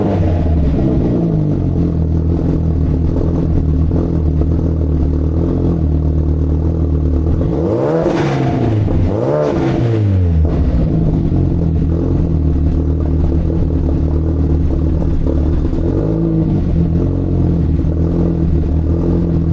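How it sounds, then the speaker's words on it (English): A Mustang race car's exhaust at idle, a deep steady rumbling burble that is loud and close, interrupted midway by two sharp revs that rise and fall before settling back to the lumpy idle. "Do you want another sound of that exhaust? Do you want me to start it up again?"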